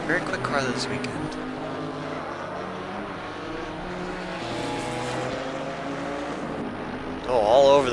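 BMW GT4 race car accelerating through a chicane at the Hungaroring during a GT4 sprint series race, its engine a steady, sustained drone under continuous race commentary.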